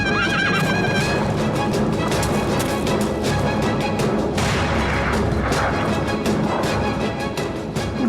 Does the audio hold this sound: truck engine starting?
no